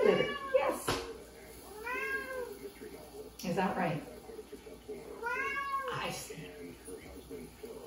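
Pet cats meow repeatedly, three or four drawn-out, rising-and-falling cries spaced a couple of seconds apart, fairly close, while someone talks softly between them.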